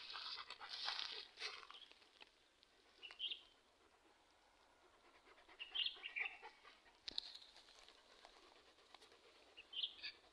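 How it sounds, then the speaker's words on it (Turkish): Faint birdsong drifts in from a distance outdoors, scattered chirps and short phrases over a quiet background with occasional rustles. "Biraz dinleyelim kuş sesi."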